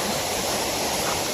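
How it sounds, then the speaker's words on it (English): Toccoa Falls pours down in a dense, continuous rushing roar, loud and close with no letup. "And you can see here's where the water's flowing from it down the"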